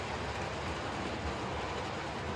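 A long model train runs on an indoor model railway, giving a continuous, even rumble and hiss with no pauses, fairly close and moderately loud.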